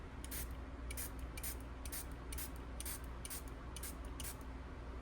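A spray bottle mists water onto Gansai Tambi watercolor pans, about ten quick hissing spritzes in a steady rhythm, close and fairly soft, with no talk.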